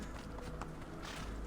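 Horse hooves clip-clop in Assassin's Creed II, a steady run of soft hoof falls beneath a dense, continuous game background with no one speaking.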